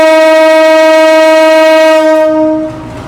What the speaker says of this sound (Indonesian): kereta api Gajah Wong diberangkatkan dari stasiun Purwokerto